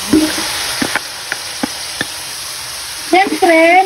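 Banana blossom going into a pan of garlic and onions for ginataang puso ng saging, with a steady hiss of frying, a few sharp knocks of a utensil, and a louder burst of sizzle near the end.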